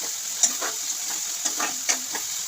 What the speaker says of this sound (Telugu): ఇలా ఇది ఫ్రై చేసుకోవాలి. ఆనియన్స్ అనేవి బ్రౌన్ కలర్లోకి రావాలి.